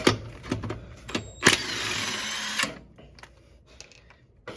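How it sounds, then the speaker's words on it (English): An impact wrench spins off a lug nut on a 2009 Nissan Rogue, a loud buzzing burst of about a second after a few clanks and taps, followed by quieter handling noises. "we're going to go directly for the impact wrench"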